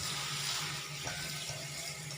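Running tap water washing mushrooms in a home kitchen, a steady broad rushing splash with faint low hum underneath and a few small knocks and clatters, no talking.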